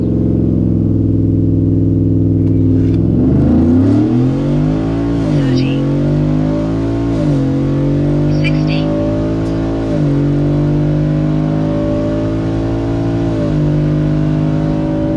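A 2024 Ford F-150 pickup accelerates hard on a quarter-mile run, its loud, steady engine drone climbing in pitch and dropping back at several gear shifts.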